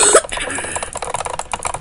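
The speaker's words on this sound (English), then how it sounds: "I know you can hear that in the background, me clicking." Quick, irregular computer mouse clicks keep coming while someone plays the Cookie Clicker game, a close, busy patter of sharp taps over faint background noise.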